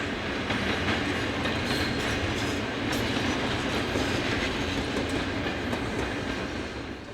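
Locomotive 5109 rolls into Ghent hauling passenger train 788, the 18:17 from Eeklo: a steady rumble with rhythmic wheel clatter over rail joints and faint squeal, sustained and fairly close throughout with no talk.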